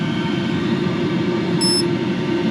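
A diesel air heater in a garage runs with a steady mechanical drone and low rumbling hum without pause, with a short high beep partway through.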